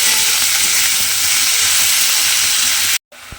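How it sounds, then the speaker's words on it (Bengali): Chopped bottle gourd sizzles loudly in a hot pan as it is stirred in, a dense steady hiss close by that cuts off abruptly near the end; no voices. "দিয়ে লাউটাকেও কিন্তু খুব ভালোভাবে মিশিয়ে নিতে হবে"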